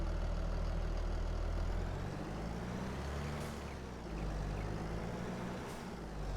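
Tractor engine in Farming Simulator idling at a steady low rumble throughout, close and continuous with a brief hiss partway through, no voices.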